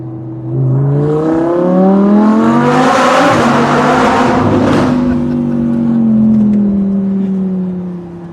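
An Audi R8 V10 with a Fabspeed valved exhaust revs up loud and close, its engine note rising then falling, with bursts of crackling pops and gurgles on the overrun.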